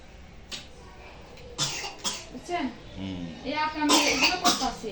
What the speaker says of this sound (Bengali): কাশি আসছে কেন